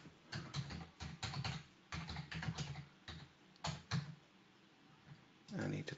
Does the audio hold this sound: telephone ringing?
no